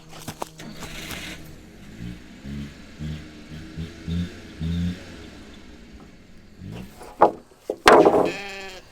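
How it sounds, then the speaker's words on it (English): Sheep in holding pens on a farm bleat repeatedly, several nearby, wavering calls in an irregular series, with louder, harsher bleats toward the end. "After careful thought, we decided to keep the sheep up here."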